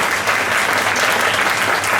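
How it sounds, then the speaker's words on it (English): An audience applauds children at a Class 8 parent orientation, steady dense clapping filling the whole stretch at an even, fairly loud level with no voices over it. "Let's give a big round of applause to our children"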